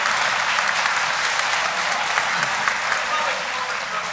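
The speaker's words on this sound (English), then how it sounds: "Can we get a big round of applause to thank you for the volunteers who brought it all together?" A gala audience breaks into sustained, even applause, a thick wash of many hands clapping at steady loudness throughout with no lull.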